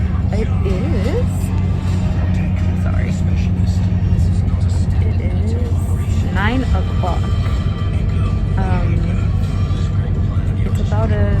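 Bus engine rumbling on the drive to the airport, a low steady drone heard from inside, with people talking throughout over it.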